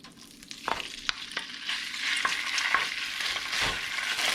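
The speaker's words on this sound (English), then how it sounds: "I'm cooking the beef first." Beef frying in about a teaspoon of olive oil in a pan for a chayote stir-fry: a steady, close sizzle that swells over the clip, with sharp stirring scrapes and taps of the utensil and no voices.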